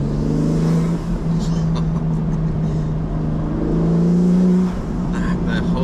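A BMW G82 M4 engine with an Armaspeed cold air intake hums and rises in revs, heard from inside the car with a steady low drone and some road noise.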